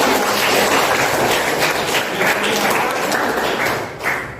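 A classroom of students claps to applaud a classmate's correct answer during a civics lesson, a dense, steady patter of many hands lasting several seconds, fading at the end.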